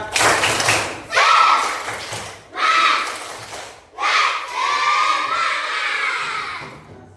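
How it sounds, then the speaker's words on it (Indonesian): A group of schoolchildren performs the rhythmic tepuk semangat clapping chant at the close of a class session, with loud bursts of claps and shouted chanting in several phrases. "mari kita melakukan tepuk semangat"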